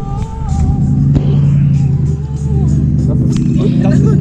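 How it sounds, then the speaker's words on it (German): A stunt show car at the Kings Dominion amusement park idles and revs with a loud, deep rumbling engine note that holds steady, with a crowd murmuring and people talking over it. "Das ist ein Stuntshow-Auto."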